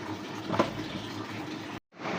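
Tap water running steadily into a container indoors, a continuous close hiss and splash that cuts off abruptly near the end before resuming briefly.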